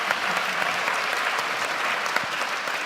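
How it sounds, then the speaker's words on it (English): Audience applause at a panel event, a loud sustained wash of many hands clapping close together with a faint murmur of voices beneath. "we haven't even started yet and we're getting applause"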